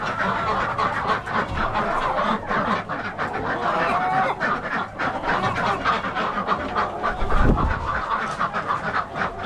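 A flock of farmyard chickens squawks and clucks busily at close range, with a burst of wing flapping partway through and constant rustling movement around the listener.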